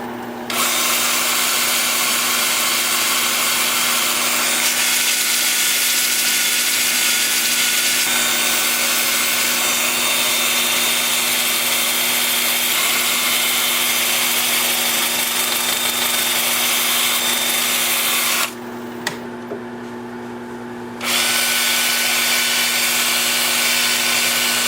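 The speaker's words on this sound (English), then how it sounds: "I'm going to have the lathe spinning in reverse at about 350." A holly wood turning being sanded on a lathe spinning in reverse at about 350, a steady close hum with constant abrasive hiss for most of the clip, briefly dropping away near the end before resuming.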